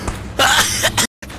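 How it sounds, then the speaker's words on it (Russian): A cough from a Russian-speaking gamer during a chaotic PUBG zombie-mode session, two or three harsh broadband bursts up close, briefly cut to silence before room noise returns. "я кашлял, когда меня кинули"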